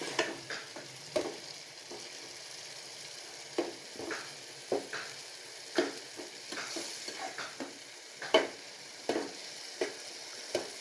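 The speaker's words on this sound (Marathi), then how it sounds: "त्यामुळे चांगलं असं परतून घ्यायचं" Spices for paneer masala sizzle softly in a pan while a spoon scrapes and stirs them in repeated sharp strokes, close by with no talking.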